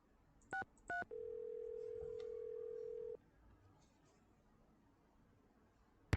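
Telephone keypad dialing tones in a Nancy Drew video game: two short DTMF beeps followed by a long steady tone, then quiet line hiss and a faint click at the end.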